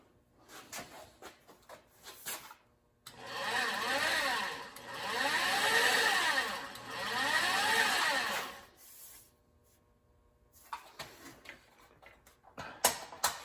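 Sheet metal being shaped on a 1938 Ford rear cab with a 3/8 tipping die over a hard skateboard wheel: a steady mechanical clattering drone runs for several seconds in swelling waves, framed by quieter ticks and clicks before and after.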